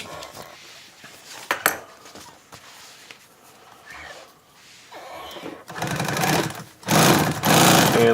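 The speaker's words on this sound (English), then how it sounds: "I'm going to stitch down the vinyl onto this back tack, and I'm doing it according to the notch" A sewing machine stitches vinyl onto a backing piece: quiet handling and small clicks at first, then two loud sustained bursts of rapid mechanical stitching near the end.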